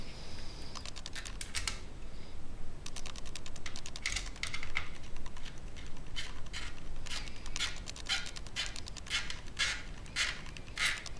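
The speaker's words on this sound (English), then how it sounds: "That squeaky noise is normal. That's just the rubber rubbing on the screw." Rubber squeaking and creaking against a screw as it is tightened during a PS2 Slim laser unit replacement, a series of short close squeaks and clicks repeating irregularly throughout.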